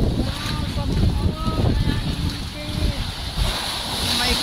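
Rough sea waves in the Blue Grotto caves off Malta, heard from a small boat as surging, splashing water with wind buffeting the microphone, close and loud, while people talk over it.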